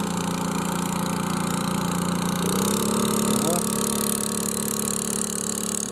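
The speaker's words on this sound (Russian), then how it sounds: "и вот и уже в другую сторону тоже лодка едет" A motor boat on a river passes by with a steady droning engine hum that shifts in pitch midway, heard near a fishing spot with a voice talking over it.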